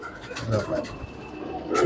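Black-winged Allahabadi pigeons coo softly close by in a short burst of low throaty calls, with a little background noise around them.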